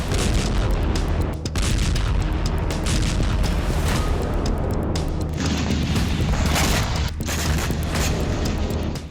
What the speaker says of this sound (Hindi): रूस की मिसाइल स्ट्राइक से निप्रो में एक दो नहीं बल्कि कई जबरदस्त विस्फोट हुए।